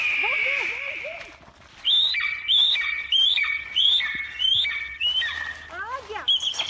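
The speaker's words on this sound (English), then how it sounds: "Tô escutando o eagle." An eagle calling outdoors, a series of loud, sharp high-pitched piping cries repeated in quick bursts after an opening whistled note, close and clear with no talking over it.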